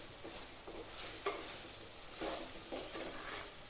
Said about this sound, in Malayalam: മല്ലിപ്പൊടി ഇട്ട് കഴിഞ്ഞാൽ നന്നായിട്ട് ഇളക്കാം.